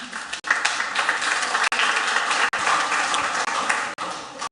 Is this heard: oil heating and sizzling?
no